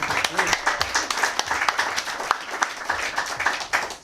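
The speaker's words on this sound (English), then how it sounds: "A round of applause for Ellen" A museum event audience claps for a presenter, a brisk burst of many hands at moderate volume, fairly close and continuous for a few seconds.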